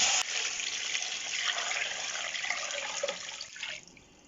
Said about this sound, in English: So I'm going to fill the jug up with water now and see how we go.